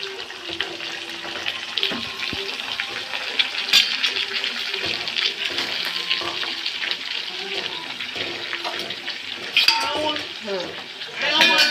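Mutton pieces go into hot oil in a pan for Chettinad mutton kulambu and are stirred and fried, a steady near sizzle with scraping and clinking of the spoon against the pan throughout.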